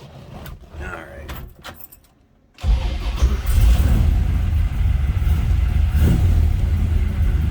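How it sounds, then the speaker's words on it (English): A 1962 Chevrolet Biscayne two-door sedan is cold-started: a few faint clicks and cranking, then the engine catches and settles into a loud, steady, rumbling idle close up. "Let's go ahead and fire this thing up. You gotta hear it run"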